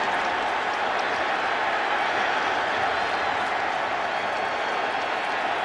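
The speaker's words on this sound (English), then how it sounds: "the crowd that was cheering him when he was flat on his stomach" A stadium crowd at an NFL football game between the San Diego Chargers and the Raiders roars in a steady, dense wash of cheering and applause that holds throughout.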